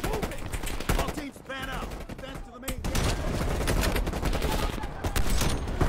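Rapid automatic gunfire in the Call of Duty Cold War campaign, loud sustained bursts and dense volleys filling the scene, with someone speaking briefly amid the shooting.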